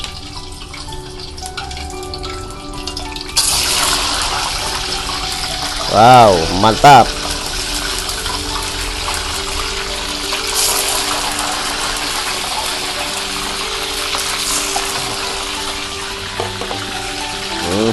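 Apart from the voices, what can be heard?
fish frying in oil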